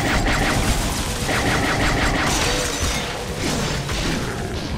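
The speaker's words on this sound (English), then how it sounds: "Shots fired, shots fired." Rapid bursts of gunfire in a first-person shooter game, dense and continuous with clattering, crashing impacts over a few seconds, no speech.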